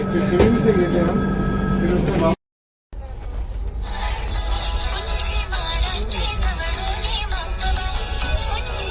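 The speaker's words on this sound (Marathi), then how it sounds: "आता ट्रेन चालू झाली आहे" A train rumbles steadily along with a broad low roar, briefly cut out, then resumes with rattling and clatter as people talk over it.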